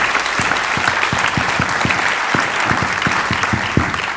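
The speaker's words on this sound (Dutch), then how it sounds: "applaus." Loud, close audience applause follows a talk on the future of journalism: thick, continuous clapping from a full room, with a few sharper individual claps standing out for the whole stretch.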